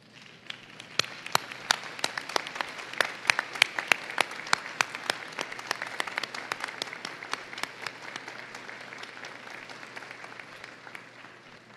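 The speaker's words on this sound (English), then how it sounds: "give them a round of applause for supporting your journey" Applause from graduates at a university convocation ceremony, turning to clap for their families and friends; dense, steady clapping from a large crowd with many sharp individual claps, sustained for the whole stretch.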